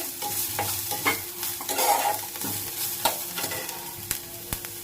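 One finely chopped onion is stirred in a hot pan, giving a continuous close sizzle with repeated spoon scrapes and occasional sharper clicks against the metal.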